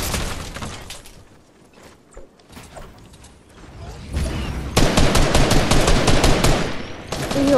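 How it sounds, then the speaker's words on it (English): Rapid mechanical gunfire rattles while jetpacking in Fortnite, starting sparse and quieter, then swelling into a loud continuous barrage over the second half. "jetpacking and shooting at the same time"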